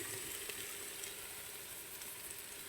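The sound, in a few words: filling sautéing in olive oil in a pan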